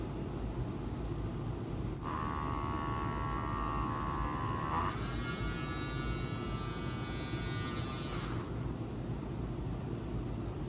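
An electric makeup brush cleaner spins a wet brush dry with a steady high whir that starts, shifts up in pitch partway through, then winds down, all over a constant low background hum.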